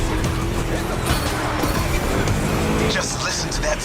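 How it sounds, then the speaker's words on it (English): A V8 engine roars continuously in a racing video game, loud and dense, with tire noise and a voice talking over it throughout. "Just listen to that V8 like a chunky, down-tuned guitar riff."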